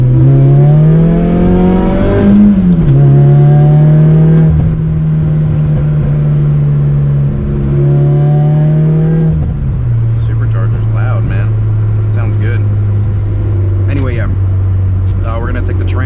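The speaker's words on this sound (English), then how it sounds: "Quick second gear pull here and see what happens." A boosted Toyota AE86 pulls hard in second gear, its engine note climbing loud and close, then easing off before settling into a lower drone with some whooshing and fluttering sounds near the end.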